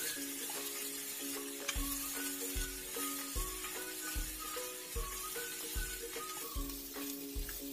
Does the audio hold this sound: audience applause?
no